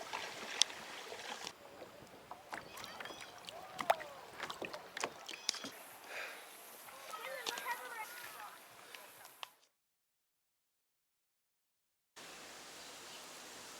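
A small, leaking kayak is paddled on Lake of the Ozarks. Close, uneven water splashes and paddle strokes run for about nine seconds, then drop to a brief silence before faint, steady water noise returns.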